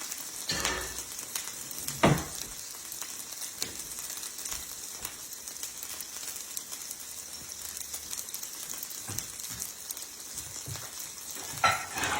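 Onions and mushrooms fry in a pan for a mushroom Swiss burger, a steady soft sizzle running throughout with a few sharper clicks and pops, no talking.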